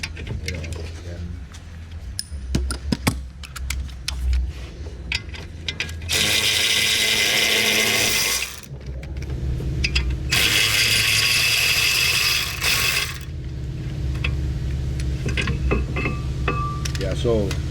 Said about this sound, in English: I'm gonna remove, break loose the caliper bolts first.